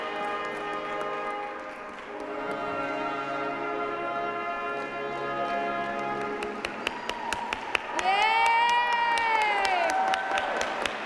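An outdoor crowd on the Oregon State Capitol lawn claps and cheers at a holiday tree lighting ceremony, a moderately distant roar beneath prominent music with sharp clap-like taps scattered through.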